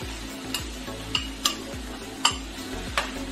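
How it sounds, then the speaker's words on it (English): Thawed frozen riced cauliflower sautés in a pan with a steady soft sizzle, broken by sharp utensil taps and scrapes against the pan every half second or so. "we'll let this saute a little bit because this is thawed, so it will not take long"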